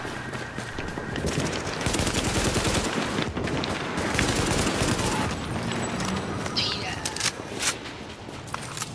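Gunfire in The Division video game: sustained loud bursts of automatic weapon fire, with rapid shots overlapping into a continuous rattle. Voices chatter over it.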